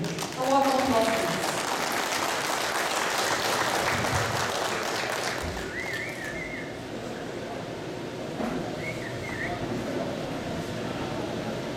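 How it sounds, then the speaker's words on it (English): A crowd at a company event applauds steadily as the chairman comes on stage, dense clapping that fades somewhat, with voices and a few brief tones heard beneath it. "A warm applause, please."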